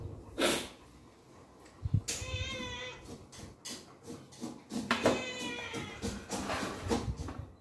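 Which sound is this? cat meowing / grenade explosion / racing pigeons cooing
cat meowing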